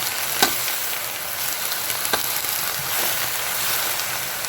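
Kangkong (water spinach) leaves frying in a hot pan, a steady dense sizzle with a couple of faint clinks from stirring, close and even throughout.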